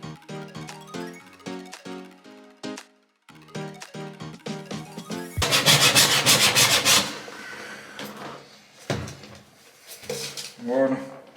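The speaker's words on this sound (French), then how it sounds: "On va poncer pour enlever un maximum de peinture" Sandpaper rubbed over a painted pipe to strip the paint during a standard toilet replacement, giving a dense, loud burst of scratchy abrasion mid-way between quieter knocks and scraping handling sounds.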